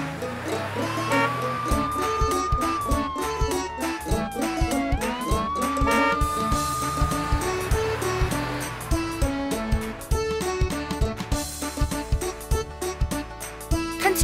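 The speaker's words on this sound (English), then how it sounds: "Ambulance." An ambulance siren wails in long sweeping rises and falls over busy music-like backing, loud and continuous, followed by rapid repeated tones.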